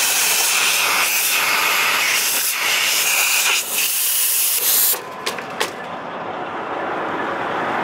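Compressed air hisses loudly and steadily from a truck air line while pulling a container, a broad continuous rush that cuts off abruptly partway through, followed by a few clicks and quieter background.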